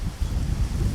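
Low buffeting wind noise hitting a microphone outdoors in a Morrow County, Ohio cemetery, a short gusty rumble with no voices.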